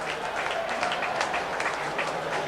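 Crowd at an Australian rules football trial match between Adelaide Crows and Norwood Redlegs applauding a goal, a steady dense roar of clapping and cheering filling the whole moment.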